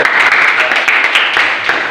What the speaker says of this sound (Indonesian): Tepuk tangan untuk Mbak Abdul.